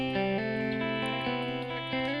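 An electric guitar plays the guitar 1 riff of a song on its own, a short run of clean, ringing picked notes over about two seconds.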